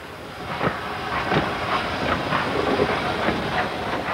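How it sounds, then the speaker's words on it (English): Six-wheeled 3F steam locomotive hauling coal on a local line through the Nottinghamshire coalfields, heard as a steady rolling rumble with hissing steam and faint rhythmic wheel clatter, continuous and fairly close. "The six-wheeled 3F was a common sight on local lines, like this one that meandered through Nottinghamshire's coal fields."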